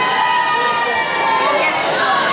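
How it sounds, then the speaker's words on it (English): A loud, dense crowd of audience members cheering and shouting at a live performance, filling the space continuously from start to finish. "assume you're just cheering at the fact that I'm slightly more hydrated"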